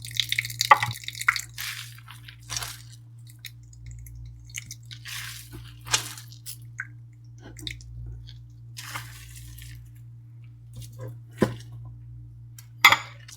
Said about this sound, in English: we are going to squeeze to remove the water content as much as possible